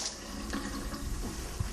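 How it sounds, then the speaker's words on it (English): Hot water runs steadily from a tap into a kitchen sink, a continuous close hiss and splash at moderate level for a couple of seconds. "while you're running the water in the sink"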